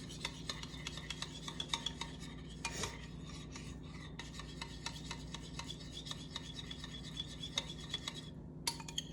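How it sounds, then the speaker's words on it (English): Melted chocolate and oil being stirred in a bowl, a quiet continuous scraping of utensil against the bowl with small clinks, steady and close, with no talking. "And I am just going to continuously mix this until it is melted together."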